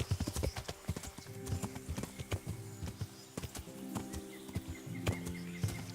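Horse hooves clip-clopping at a steady walking rhythm while riding in Kingdom Come: Deliverance, the footfalls close and distinct over soft background ambience.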